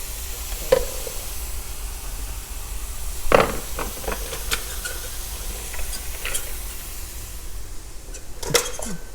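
Sliced radishes cook down in a pan for keto lettuce wraps, a soft, steady sizzle with a few sharp clinks and scrapes of a utensil against the pan.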